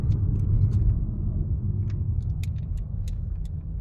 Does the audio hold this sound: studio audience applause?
no